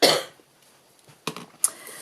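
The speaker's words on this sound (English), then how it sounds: "Excuse me, I'm going to cough." A loud cough bursts out at the start, followed after a pause by two smaller throat-clearing coughs, close to the mic with no talking.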